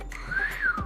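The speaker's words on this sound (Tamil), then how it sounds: "விசில் அடிக்கவா?" A whistle blown during a street campaign for votes gives two rising-and-falling shrill tones in quick succession, close and loud within a single second, with no talking.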